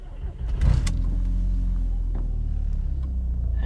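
Audi S3 8L with a misfiring engine turning over and catching, a short cranking burst followed by an uneven, steady idle rumble close by.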